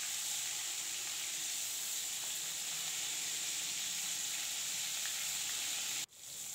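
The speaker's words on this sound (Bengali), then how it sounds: "এক পাশ ভাজা হয়ে গেছে, আর এক পাশ উল্টে দিয়ে আমি হালকা ভাজা করে নেব" Tuna fish pieces fry in hot oil in a wok, giving a loud, steady, continuous sizzle that cuts off abruptly near the end.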